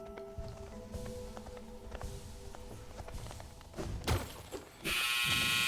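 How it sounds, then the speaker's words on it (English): A household clothes dryer thumps loudly nearby, with irregular heavy thuds that build to a burst of harsh broadband rumble at the end, over a low indoor background hum. "Sorry, that's my dryer. Shouldn't have been that loud."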